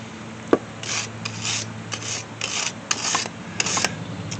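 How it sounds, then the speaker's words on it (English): A wire welding brush scrubs front disc brake parts on a 2009 Ford Focus, making close, raspy bursts of repeated scrubbing strokes with short pauses between them and no talking. "You can use a brush like this, my welding brush, which in certain spots works better."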